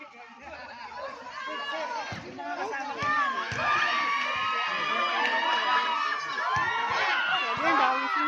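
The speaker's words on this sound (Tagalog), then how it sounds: "Ayun, dami sumisigaw." A basketball crowd shouts and cheers throughout, a dense, loud wash of many voices with excited whoops and children's yells rising and falling.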